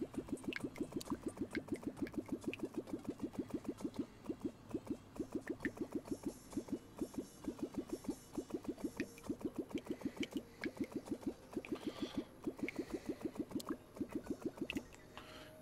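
Water poured from a bucket in the Terraria video game makes rapid, regular gurgling and splashing bursts that repeat steadily for about fifteen seconds at moderate volume, with no talk.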